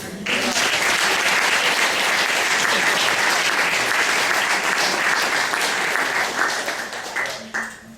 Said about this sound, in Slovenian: In še en aplavz.